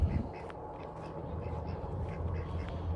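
Several ducks on a farm quack repeatedly in short, scattered bursts, fairly faint and at a moderate distance, over a low rumbling background.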